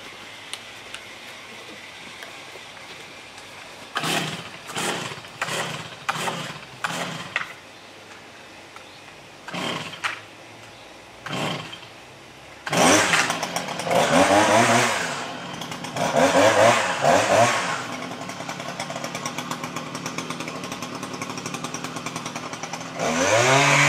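A power hedge trimmer cutting a customer's hedge, running in a series of short revving bursts with gaps between them, then longer sustained cuts toward the end, close and loud.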